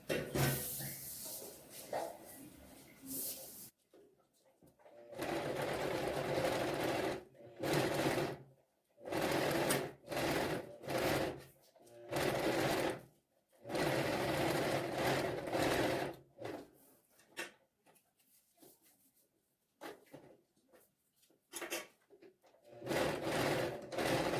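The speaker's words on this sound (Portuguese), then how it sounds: "a gente vai passar uma costura aqui e aqui, nas duas laterais do velcro" Sewing machine stitching along both sides of velcro strips while making low-cost mobility equipment for children; close, loud motor bursts of a few seconds each, broken by short pauses between seams.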